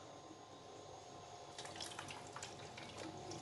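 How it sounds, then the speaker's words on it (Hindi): Water poured into a baking tray to make a water bath for crème brûlée: a quiet hum at first, then soft splashing and trickling from partway through. "इसमें डालेंगे हम पानी।"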